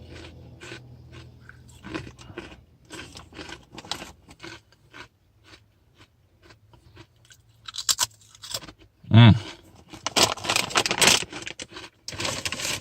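Someone chews a Chinese buffet dish dipped in sweet sauce, with close, soft, irregular crunching and mouth sounds that grow louder and busier toward the end, with no talk.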